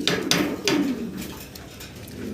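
Pigeons kept in a farm cage coo close by, with a few short throaty calls over a background of clattering and shuffling, and no voices.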